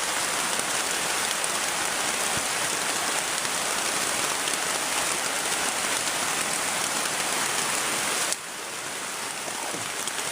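Heavy rain pours down on a mountainside in a steady, loud, close hiss that runs unbroken, dropping slightly in level near the end; no voices are heard.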